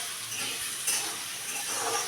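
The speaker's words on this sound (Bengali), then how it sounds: "আলু ভাজতে একটু সময় লাগবে" Potatoes frying in a pan for bitter gourd chorchori, a continuous hissing sizzle with faint stirring, close and steady, no voices.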